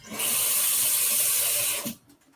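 Tap water pours steadily into a container to dilute yarn dye during hand-dyeing, a loud continuous rushing hiss lasting nearly two seconds before cutting off abruptly.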